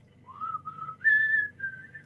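A person imitates a whistle: a short rising whistled note that holds steady, then jumps higher and lingers, clear and close with no talking.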